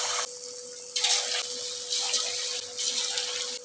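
Chicken 65 pieces fry restaurant style in hot oil over a medium flame, making a loud, continuous sizzling hiss that swells and eases in waves, with no voices.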